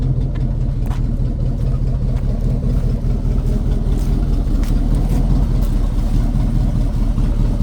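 A 1979 Chevy wrecker engine, fitted with a new alternator, coil and plug wires, idles smoothly and steadily with a continuous low rumble throughout, no voices present.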